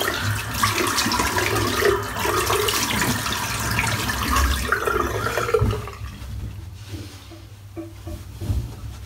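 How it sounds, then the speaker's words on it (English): Water splashing and running over a freshly shaved head, alternating hot and cold rinses at a sink, a steady close wash that thins into scattered drips and trickles. "Splash of hot water and then a splash of cold."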